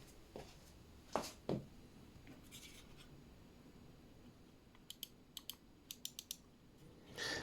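Sharp clicks from a Krux Bot RGB gaming mouse come in a quick run of six or seven, after a few louder handling knocks, all quiet and close with no talking.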